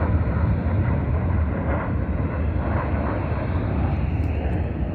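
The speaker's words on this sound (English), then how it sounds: "See that American Airlines jet coming in for a landing." An American Airlines jet comes in to land near Las Vegas Boulevard South, a loud, steady broadband engine roar with wind noise, heard continuously from outdoors along the street.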